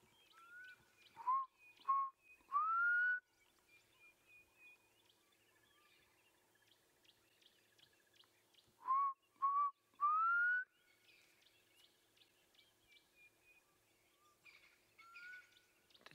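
A black cuckoo calls in a sunrise bush setting, two clear three-note whistled phrases, each falling then rising, spaced several seconds apart, with faint chirps of other birds between.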